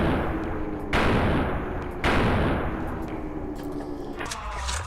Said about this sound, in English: That's the Halo assault rifle.